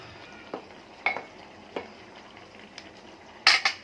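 Coconut milk curry coming to a boil in a pot while tempering is poured in, with scattered metallic clinks and scrapes of a spoon against the pot and a brief sizzling burst near the end.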